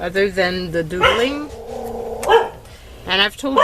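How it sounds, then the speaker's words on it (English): Dogs barking indoors during a journaling session with a cat loose, a few close barks and yips with a whining, wavering tone, interleaved with someone talking. "sorry about the dogs"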